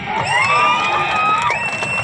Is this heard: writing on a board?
no